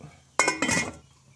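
Metal lid set onto a cooking pot of boiling vegetables, a sharp clank followed by a second rattling clatter as it settles, close and brief.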